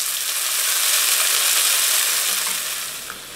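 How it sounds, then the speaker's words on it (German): Beef rouladen searing in hot olive oil in a pan, a steady close, loud sizzle and crackle that holds throughout and eases slightly at the end. "Und darin brate ich jetzt die Rouladen von allen Seiten an."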